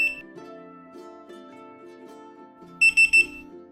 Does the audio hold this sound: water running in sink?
no